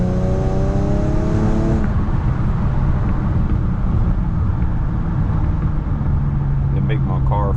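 Infiniti G37 fitted with a 1320 Y-pipe exhaust revs up sharply, then settles into a loud, steady drone heard close by, with a person talking over the engine.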